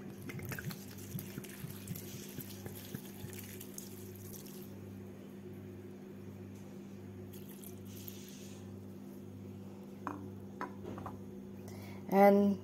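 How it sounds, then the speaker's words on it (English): Rum poured into Christmas fruit cake batter, a soft trickling splash and light drips over a steady low hum, ending in a short louder clatter, no voices. "Now pouring in the rum."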